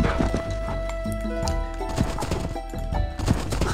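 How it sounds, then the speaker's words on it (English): Horses in the video game Age of Empires 2, with clip-clop hooves and a whinny under game music and effects, fairly close and busy throughout. "We have found 3 naked horses."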